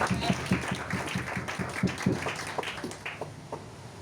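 A church congregation breaks into applause, a steady patter of many hands clapping in a reverberant hall that gradually thins out, with voices murmuring beneath it.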